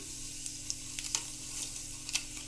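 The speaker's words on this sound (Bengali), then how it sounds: "দিয়ে দিচ্ছি ফোড়নের জন্য কালো জিরে" Black cumin seeds crackle and sizzle in hot oil, a steady hiss broken by small pops and spits, close by with no talking.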